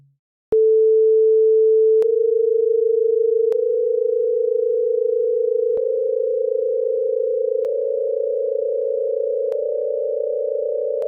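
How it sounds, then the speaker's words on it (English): Pure sine tones tuned to perfect frequencies for the twelve notes of a scale sound one after another, each new pitch stacking onto the sustained chord, a smooth steady drone that rises in small steps and wobbles faintly. "If we listen to an ascending set of tones based on perfect frequencies for each of the 12 tones"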